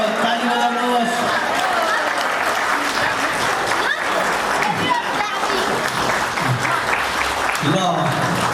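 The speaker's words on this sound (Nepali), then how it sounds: "ल ताली बजाउनुहोस्।" A crowd at a 50th wedding anniversary celebration claps loudly and steadily throughout, with voices and chatter mixed into the applause.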